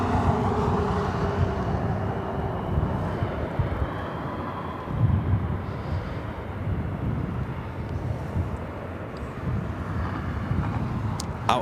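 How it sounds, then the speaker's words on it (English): An Airbus A330neo airliner passes at Los Angeles International Airport, heard as a steady, distant jet roar with wind buffeting the microphone throughout. "A330 Neo."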